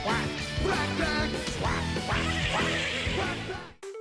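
Cartoon duck quacks in the Quack Pack theme intro, loud repeated quacking layered over bright, bouncy theme music that cuts off near the end.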